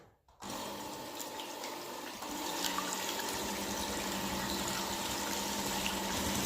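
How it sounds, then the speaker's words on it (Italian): An electric mixer whips egg whites for an orange plumcake, starting abruptly and then running as a steady, fairly quiet whirring hum that thickens slightly partway through. "passiamo a montare gli albumi. Comincio a montarli"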